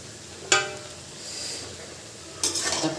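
Tomato drops into a frying pan with a sharp hiss, then a stretch of low sizzling before a second burst of sizzling and scraping as it gets stirred, close and moderately loud.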